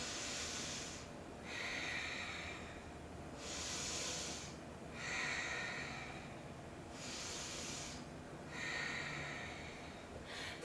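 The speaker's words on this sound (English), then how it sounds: "breathe deeply here" Slow, deep breaths during a yoga hip-stretching session, long airy inhales and exhales alternating in a regular rhythm with quiet pauses between, close and soft with no speech.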